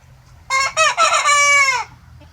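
A rooster crows loudly and close by, one full cock-a-doodle-doo with two short opening notes and a long drawn-out final call, standing alone over a quiet farmyard background.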